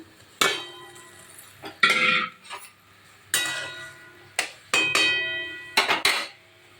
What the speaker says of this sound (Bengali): ঝোলটা ফুটছে এবার কুমড়োগুলো দিয়ে দিলাম